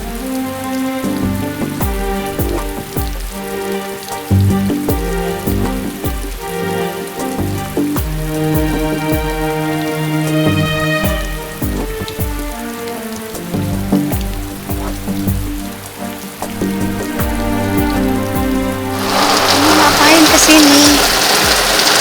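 Heavy rain pours down steadily and loudly throughout, a dense continuous wash, with music-like tones underneath and the downpour swelling even louder near the end.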